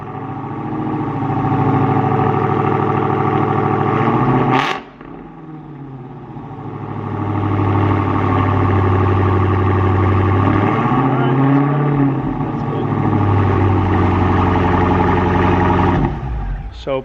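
A Dodge Demon with a Borla Atak exhaust idles steadily after a semi-cold start, deep rumbling exhaust briefly dipping before settling back into an even idle; close and loud.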